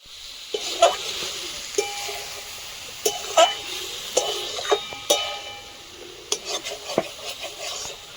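Cabbage is stirred into a pan where chicken and potato have already been fried, with sharp scraping and clinking of a spatula against the pan over a low sizzle at moderate volume.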